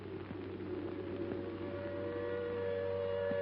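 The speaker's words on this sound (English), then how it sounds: "Then the air raid siren wails again" An air raid siren sounds over a bombed-out German city in the aftermath of the Second World War, a steady sustained tone holding across the clip at moderate volume with faint background rumble and no talk.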